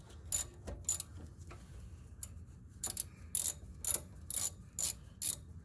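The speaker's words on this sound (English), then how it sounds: "I use the bolt itself to help, or the socket to unscrew it" A socket wrench ratchets while unscrewing a rear brake bolt on a 2011 Hyundai Tucson, giving short bursts of crisp clicking separated by pauses, close and fairly quiet.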